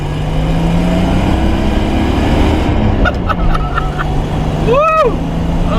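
A widebody 1982 Datsun 280ZX roars loudly while being driven and shifted, its engine drone rising and dropping in pitch between gears, with a voice briefly exclaiming near the end.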